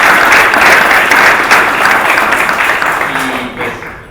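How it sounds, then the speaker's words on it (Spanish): A conference audience at a talk on AWS purple teaming, attack and defence, breaks into loud, dense applause that holds steady for about four seconds before starting to taper off. "volver a incitar a un nuevo aplauso"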